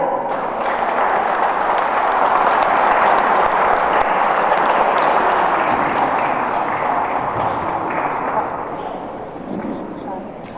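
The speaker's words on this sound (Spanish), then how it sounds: "Los recibimos con un fuerte aplauso." An audience at an event about a historic site on the Río Quinto gives steady, loud applause that carries for about eight seconds before tapering off, with some voices mixed in.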